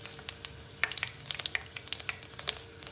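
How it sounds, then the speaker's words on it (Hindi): Whole spices (bay leaf, green and black cardamom, cloves and star anise) fry in hot oil, crackling and popping in quick bursts over a low steady sizzle, with no talking. "मसाले यूज़ कर रही हूँ, जिसमें मैंने लिए हैं तेज पत्ता, इलायची, लौंग, बड़ी इलायची और चक्री फूल। इसे हल्का सा पका लेंगे।"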